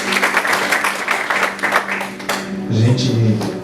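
Congregation applause at a church prophetic immersion service, a broadband clatter of many hands filling the room, with talk and music running underneath and growing busier toward the end.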